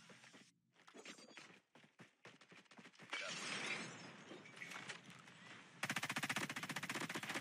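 BP50 rifle fire in the COD Mobile video game as a full magazine is emptied, a long stream of rapid shots ending in a dense, steady burst, mixed with clattering game effects.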